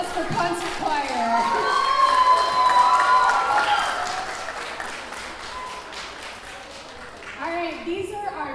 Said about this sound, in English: let's have one more round of applause for concert choir